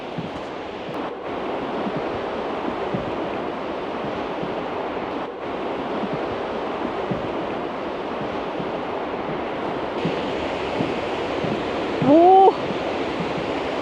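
A large waterfall gives off a steady, broad rushing roar that stays unbroken throughout, with a short exclamation from a person near the end.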